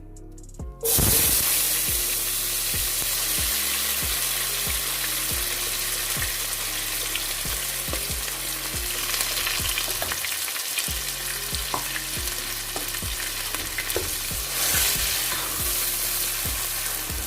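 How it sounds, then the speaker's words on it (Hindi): Chopped onions hit hot oil in a pan with an abrupt loud sizzle, then fry in a steady close crackle punctuated by regular stirring scrapes, no talking. "अब हम इसमें जो प्याज काट के रखा था वो ऐड कर देंगे"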